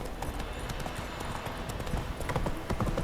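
Roach the horse gallops in The Witcher 3 video game, with a rapid, steady clip-clop of hooves that is close and prominent, running throughout without pause.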